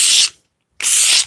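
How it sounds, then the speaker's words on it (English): Two firm rubbing strokes pass over a stained cabinet door face to smooth away roughness, each a loud, hissing scrub of about a quarter second, separated by a short pause of silence. "is just removing the roughness from this door face"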